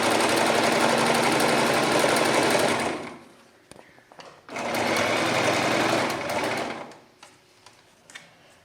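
Sewing machine stitching a slipper sole to its upper, two loud bursts of rapid continuous stitching separated by a pause with faint handling clicks and rustles.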